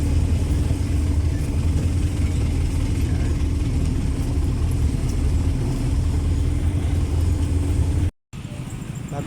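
A tricycle engine rumbles past on a road in Guagua, a steady loud motor drone with traffic noise that stays continuous, with a brief dropout near the end.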